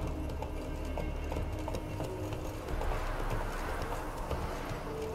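The horse Roach gallops in The Witcher 3, a fairly faint, rapid rhythmic clip-clop of hooves continuing throughout against steady game ambience.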